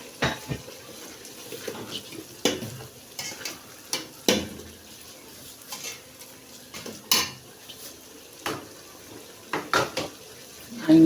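Onion frying in a pan for fried rice, a soft sizzle under frequent clacking scrapes of a utensil against the pan, close and uneven in rhythm, no speech.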